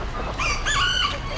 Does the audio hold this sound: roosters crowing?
yes